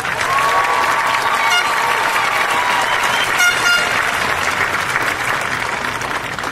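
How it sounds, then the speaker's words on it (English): High school graduation crowd fills a large venue with sustained, loud applause, with a few horn toots and scattered cheers rising out of the steady clapping. "Please give these students a round of applause"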